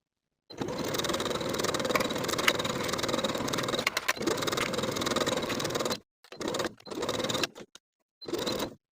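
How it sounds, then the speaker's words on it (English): A sewing machine stitching a sash onto a bodice, a close steady mechanical whir running for several seconds, then stopping and starting in short bursts. "Now we can sew the sash in place from the bottom of one front bodice piece with a 3/8 inch seam allowance"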